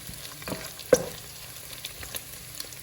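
Bacon fries in a pan with a soft, continuous sizzle broken by scattered pops and spits, one of them sharper near the start. It is close and fairly quiet, with no voices.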